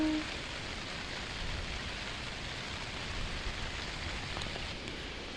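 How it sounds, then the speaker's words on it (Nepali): Steady rain pours outdoors in a rural hillside setting where grass is being cut for livestock, a dense continuous hiss with soft patter on surfaces, even and unbroken throughout with no voices. "अनि यहाँ चाहिँ म आउने बित्तिकै पानी पर्यो"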